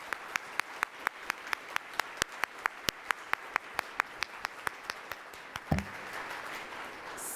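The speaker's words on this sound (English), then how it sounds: "Let's give them all a round of applause." Sparse, distinct claps from a small audience applauding a panel and host at a civic downtown discussion, a slow run of individual hand claps that thins out and ends in a brief thump.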